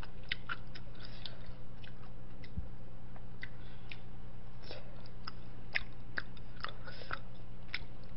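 Close-up chewing and crunching of crispy fried side dishes served with tteokbokki, soft repeated bites and munching at an irregular rhythm, with no talking.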